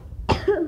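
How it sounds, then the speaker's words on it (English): A single short, harsh cough bursts out close to the microphone, followed by a brief voiced throat sound as it trails off. "I'm coughing."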